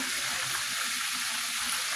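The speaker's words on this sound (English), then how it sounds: "I got my chicken over here still frying up" Steady, dense sizzling of chicken wings frying in hot oil, continuous and close, with no talking.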